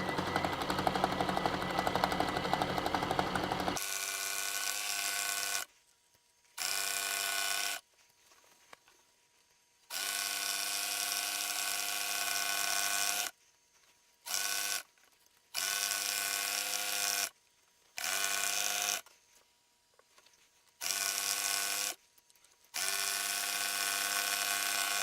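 A sewing machine stitches outdoor movie screen fabric in loud, steady whirring runs of a few seconds each, broken by short pauses of near silence as the work stops and starts again.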